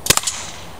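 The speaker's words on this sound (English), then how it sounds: "CO2's punctured, and fire it." A Byrna TCR CO2-powered launcher fires once with a sharp, loud crack and a quick follow-up snap, then fades to quiet.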